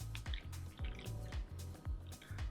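Dissolved gelatin is poured and stirred into beer in a container, giving repeated soft liquid drips and sloshes in a steady rhythm, close and quiet.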